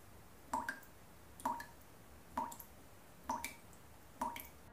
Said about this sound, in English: like the dripping of a tap